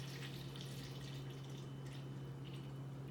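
Water poured from a hemisphere into a container, a steady close splashing and trickling stream with a low hum underneath throughout.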